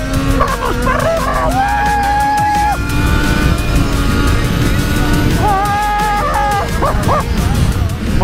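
An English Daytona motorcycle runs at high speed on a track, its loud engine and wind roar holding steady while higher rising and falling tones sweep through as it accelerates.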